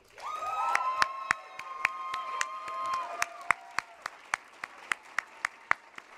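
Applause breaks out at a Quebec youth political gathering as organization officers stand to be introduced; a warm crowd of clapping blends with a held musical chord and sharp, regularly spaced claps or beats, with brief cheers at the start.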